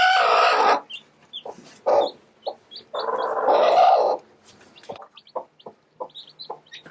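Broody little black hen with newly hatched chicks, clucking close by in a run of short, repeated clucks and calls, with a couple of longer vocal bursts and no talking.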